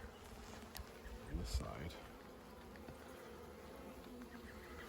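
Honey bees at an opened top bar hive during a spring inspection make a soft, steady hum, and one bee buzzes louder as it passes close by. A person speaks a few quiet words.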